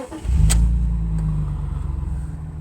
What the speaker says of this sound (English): Instant starting, of course, on these reliable 6-cylinder engines